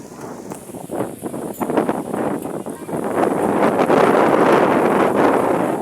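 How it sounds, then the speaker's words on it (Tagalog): Strong wind by the sea buffeting the microphone in loud, rushing gusts that build and stay heavy, with rustling underneath, as a thunderstorm approaches. "Sobrang lakas na po ng hangin dito"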